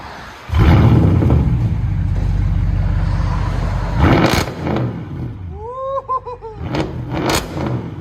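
A twin-turbo car fitted with an Active AutoWorks mid-pipe fires up and revs loudly nearby, settling into a rumbling idle before sharp blips, with excited laughter and voices over the end.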